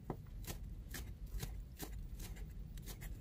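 Garlic and scallion bases are crushed and minced with a knife on a cutting board, giving a series of sharp chopping thuds in an uneven rhythm, close by, with no talking.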